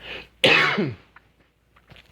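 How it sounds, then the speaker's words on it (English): One harsh, close cough bursts out after a brief breathy sound, followed by faint small noises and quiet. "Sorry, I've got this cough."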